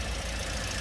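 A Toyota Veloz's 2NR engine running at idle, a steady low hum that stays even and moderately quiet for under a second.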